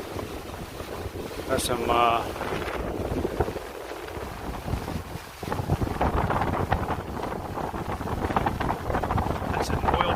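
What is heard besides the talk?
sailboat under way in wind crossing the Gulf of Mexico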